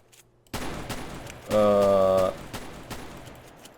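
Gunfire in GTA San Andreas Multiplayer, with the Spaz shotgun fired in the game: a short burst of sharp reports, one loud sustained blast in the middle, then fainter shots trailing off.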